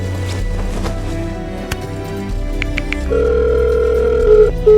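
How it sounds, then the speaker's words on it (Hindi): A phone line rings with steady electronic tones that repeat and go unanswered, with a brief click and a low background hum. "मैं निकी को कॉल कर रही हूँ। वो उठा नहीं रही।"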